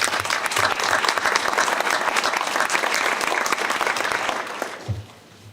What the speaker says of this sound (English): give our students a big round of applause for the wonderful music that they're sharing with us today